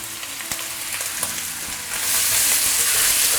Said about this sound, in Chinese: 加黄豆酱之后就开小火，慢慢翻炒它